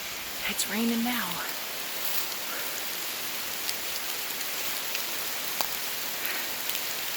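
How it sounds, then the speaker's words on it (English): Rain falling on trees in an Ohio public-land woods, a dense steady hiss of drops with scattered louder taps, and a short stretch of voice near the start. "Ooh, it's raining now."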